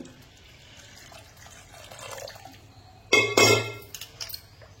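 Two kilograms of wheat grain are washed in water for making kurdai, with a low wash of running water and sloshing, then a louder splash and clinks of grain and vessel near the end.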